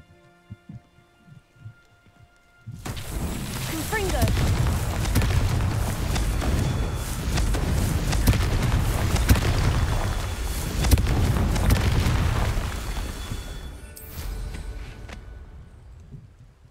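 Fire spell blasting in Hogwarts Legacy, a sudden roaring, crackling rush of flame that lasts about eleven seconds after a quiet start, then cuts off.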